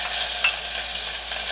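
Garlic cloves fry in about a tablespoon of olive oil, giving a steady, close, bright sizzle that holds evenly throughout with no voices.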